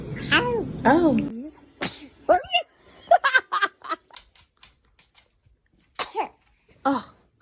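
A baby sneezes, short sharp bursts mixed with little squeals and giggly breaths, close and fairly loud, with quiet gaps between.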